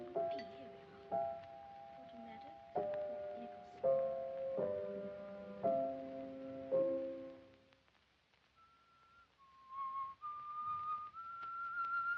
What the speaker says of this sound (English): What's that you're whistling?